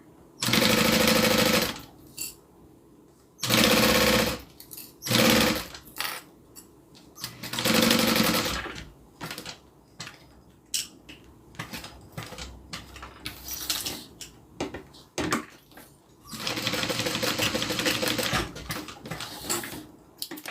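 A sewing machine stitches zipper tape for a zippered bag closure in repeated loud close bursts of rapid needle clatter, separated by short pauses and quieter handling noises.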